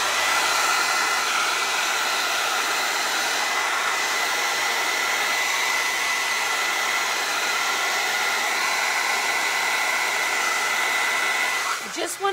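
A blow dryer dries a glass and resin angel-wings art piece before resin is added, blowing as a loud, steady, close whoosh for about twelve seconds before cutting off abruptly.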